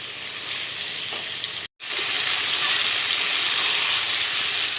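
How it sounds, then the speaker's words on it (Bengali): Fish being stir-fried in spice paste in a hot pan gives a steady, close hiss and sizzle, broken once by a brief silent cut before it resumes. "এবারে আমি নেহেরে মাছটা দিয়ে দেবো। নেড়ে মাছটাকে মশলার সাথে এভাবে আমি একটু কষে নেব।"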